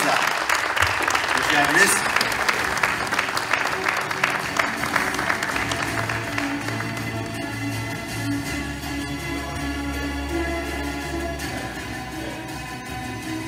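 Audience applause at the 2015 Scientist of the Year and Young Scientist award ceremony, a steady wash of clapping that swells early and then holds under music, with a voice speaking briefly over it.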